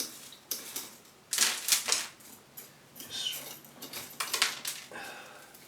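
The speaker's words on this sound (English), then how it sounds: "I'm just going to scratch the surface and see how much of the rubbish I can get off." Moss and algae being scratched off the surface of a Satsuki azalea pot, a dry, rasping scrape in uneven bursts of several strokes, close and fairly quiet, with short pauses between.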